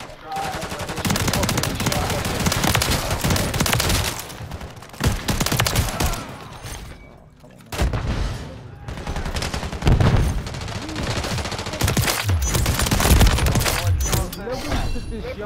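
Rapid automatic gunfire from a Call of Duty match comes in long, loud, dense bursts with short gaps between them, while a voice talks over the action.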